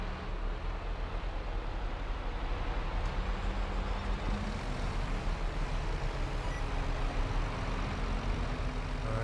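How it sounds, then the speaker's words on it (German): A farm vehicle in Landwirtschafts-Simulator 22 backs up, its steady engine drone and faint reversing beeps running continuously at an even level. "Jetzt fährt er wieder rückwärts und fährt jetzt wieder dahinter"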